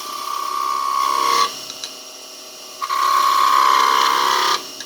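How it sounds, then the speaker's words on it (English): A skew chisel cuts a V into wood turning on a lathe, giving two sustained scraping passes with a strong tonal whine, separated by a quieter pause with faint taps. "you can go in like you would with a skew if you want to make a V cut to give you some depth"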